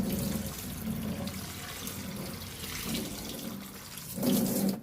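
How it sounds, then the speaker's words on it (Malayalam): Cold water pours steadily over drained sago pearls in a kitchen, giving a continuous splashing stream with no talking. "ഇനി ഇതിന് മുകളിലേക്ക് നല്ല തണുത്ത വെള്ളം ഒഴിച്ചു കൊടുക്കണം"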